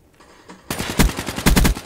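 Rapid bursts of automatic gunfire from a Black Ops 3 multiplayer match, starting abruptly after a quiet moment and hammering loud and close in fast repeated volleys.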